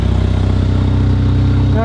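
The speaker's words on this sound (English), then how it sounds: "you can still hear the exhaust coming right out from under there" Deep, throbbing exhaust note of a modified Volkswagen Jetta idling close by, a steady low pulsing rumble with a brief rise near the end.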